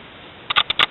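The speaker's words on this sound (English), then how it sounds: "I can hear the camera clicking." Camera clicking outdoors on a nature trail, four quick small clicks close together near the end after a moment of quiet hiss.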